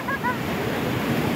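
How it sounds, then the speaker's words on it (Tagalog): Large ocean waves surge and wash at night in a steady roar of surf, with wind buffeting the microphone throughout. "Ayan o, lalaki ng alon o."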